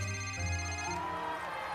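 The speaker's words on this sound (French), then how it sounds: "Laissez ce téléphone tranquille. Laissez sonner." A telephone rings with a steady electronic ringing tone, moderately faint, over a brief stretch.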